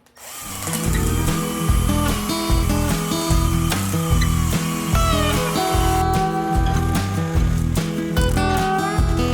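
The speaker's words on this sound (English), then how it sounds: "you're probably going to have to wire wheel them before you engrave them" A power wire wheel scours old shingles, grinding steadily and loudly up close with a rhythmic pulsing whir and scratchy metallic edges throughout.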